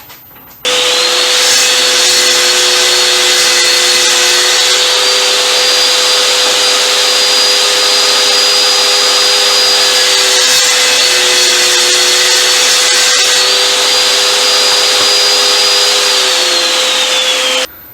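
Table saw making relief cuts in wood for a dovetail clamp sled, a loud steady whine running nonstop after a sudden start, the blade pitch dipping briefly as each cut bites, then stopping abruptly.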